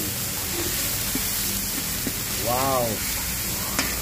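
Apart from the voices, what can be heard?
bird's eye chilies sizzling as added to pan for lomo-lomo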